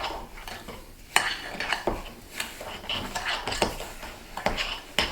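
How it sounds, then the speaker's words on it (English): Sugar scrub ingredients being tossed and mixed in a bowl, with repeated scraping and clinking of a utensil against the bowl in an uneven rhythm, close and moderately loud. "just give it a nice little toss and mix it all up"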